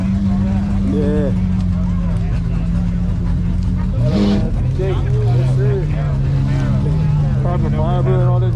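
A 2021 Ferrari 488 Pista supercar at a cars and coffee meet, its engine droning steadily close by and rising briefly, while people talk over it.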